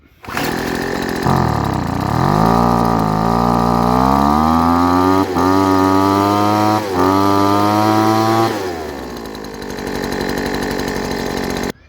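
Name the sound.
leaf blower engine running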